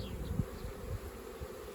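Honeybees buzz over hive frames in a beekeeper's split colony, a low continuous drone with a few brief louder swells, close and steady throughout.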